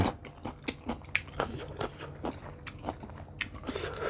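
Pickled crab legs with roe being bitten and chewed up close, with a steady run of crunchy, wet bites and smacking chews, fairly quiet and without talk.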